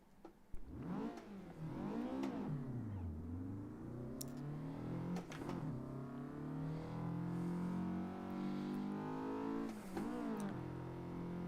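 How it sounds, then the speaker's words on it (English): A Honda S2000 with JS Racing parts revving on the Gunsai Touge mountain road in Assetto Corsa, a steady high engine note climbing and dropping through gear changes with brief blips between shifts, no talk. "I will say I personally like the sound of an S2000 more than an RX-7"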